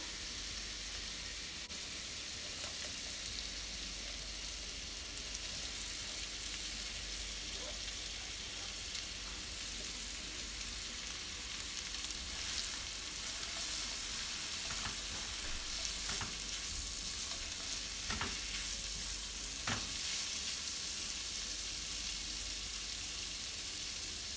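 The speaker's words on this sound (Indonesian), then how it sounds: "Setelah bumbunya matang, harum, masukkan bakso, kemudian wortel." Meatballs and carrots stir-frying in cooked spice paste for fried rice vermicelli, a steady, close sizzle with occasional scraping stirs and soft clatters throughout, no talking.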